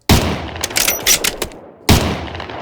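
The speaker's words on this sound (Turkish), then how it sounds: "Tamam buradan hepsini rahatlıkla vururum." Gunfire from a gun mod in a Minecraft video game, loud close rapid bursts of shots, a quick volley followed by a short pause and another sharp burst.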